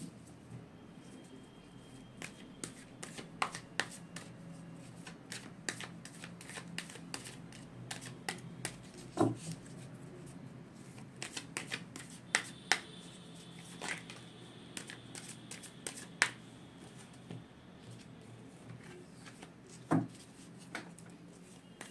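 Tarot cards are shuffled in a quiet room. The soft rustles and light snapping clicks run steadily throughout, close and faint.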